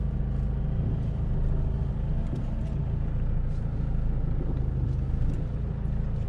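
A 4WD vehicle crawling off-road along a rut: a steady, close engine rumble with low droning noise and no voices, holding at a constant level throughout.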